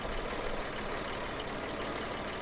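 A tractor engine labours up an extremely steep slope at about two miles per hour, giving a steady, loud, low rumbling drone with no letup and no voices.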